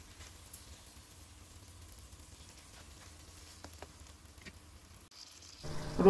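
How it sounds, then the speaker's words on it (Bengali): Green chillies and garlic frying in oil for a pickle, a faint, even sizzling hiss close by that swells louder in the last second. "তারপর আবার আমি ভালোভাবে মরিচ আর রসুনের সাথে মিশিয়ে ভেজে নিচ্ছি এই তেলের মধ্যে।"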